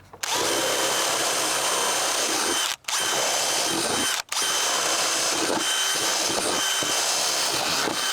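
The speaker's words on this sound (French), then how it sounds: "Allez hop, on perce une planche." A DeWalt DCD996 18V drill bores through a wooden plank at top speed, a loud, close, steady whine held for several seconds with two brief cut-outs where the trigger is released and pressed again.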